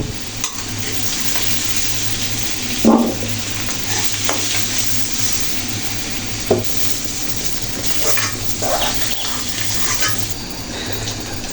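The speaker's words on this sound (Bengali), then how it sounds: "মিষ্টি কুমড়া আর আলু সবজিগুলো কি সময় নিয়ে ভাজা ভাজা করে ভেজে নিচ্ছি" Pumpkin and potato pieces fry in a pan for a fish curry, giving a steady sizzle broken by a few louder scrapes and stirs of a large ladle, with no talk.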